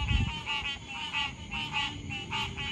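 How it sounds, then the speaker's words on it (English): Frogs croak outdoors at night in a steady pulsing chorus of rhythmic repeated calls, about eight bursts in quick succession, close and fairly loud with a low rumble beneath. "And I'll check out these frogs."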